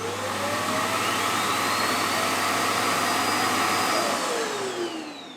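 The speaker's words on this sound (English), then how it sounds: "the all-in-one station does sound like a bit of a normal vacuum cleaner kind of sound when it turns on" A robot vacuum's all-in-one docking station runs its emptying cycle, a loud steady whooshing suction roar close by that holds constant for several seconds before starting to taper.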